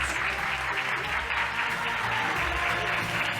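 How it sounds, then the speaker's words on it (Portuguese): Steady, dense audience applause fills the room at a constant moderate level, many hands clapping together with a faint murmur underneath and no break from start to finish. "Ela merece todas as palmas de vocês."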